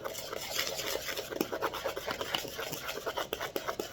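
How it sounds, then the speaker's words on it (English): Plant-based pancake batter being stirred in a bowl: soft, rhythmic scraping and rubbing strokes, quiet and close, with no talking. "And then we're going to stir this up before adding the milk, soy milk. So I'm just going to stir this up."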